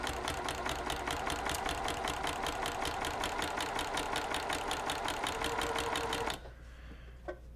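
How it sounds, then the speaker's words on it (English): Sewing machine stitching fabric in a steady rapid rhythm, loud and close, running alone for several seconds before stopping and leaving a quiet room. "And then I'm going to stitch until I get a 1/4 inch away from the edge."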